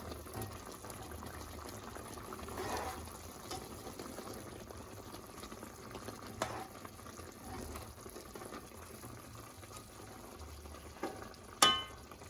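Caramelized pork and eggs stirred in a simmering pot, with a soft continuous bubbling and occasional faint scrapes, and a sharper clink near the end.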